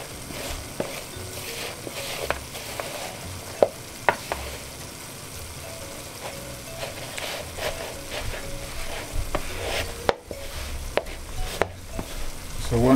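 Beef being mixed and coated with a kitchen utensil for Brazilian beef stroganoff, heard as a run of scattered clicks, scrapes and utensil taps against a bowl, fairly close, with a sharper cluster of knocks near the end and no talking.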